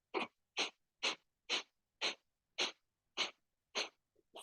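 Nine sharp, forceful nasal exhales during a yoga breathing exercise, evenly spaced about half a second apart, each a short loud burst of breath with silence between, ending with a fainter sniff.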